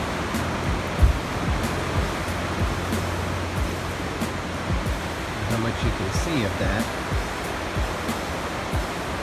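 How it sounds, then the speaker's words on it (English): Constant loud rush of river rapids at the Wild Water Preserve in Minden, Ontario, a broad roaring wash of water close by, with a person briefly talking over it. "This is the Wild Water Reserve, or Preserve. Kind of like rapids."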